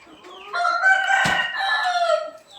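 A White Leghorn rooster crows once, loud and close, a single drawn-out cock-a-doodle-doo lasting about two seconds with no other sound around it.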